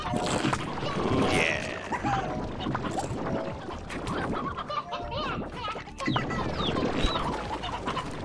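Chickens clucking in the Slime Rancher video game, repeated clucks and squawks over busy game sounds, with a voice talking faintly in the background.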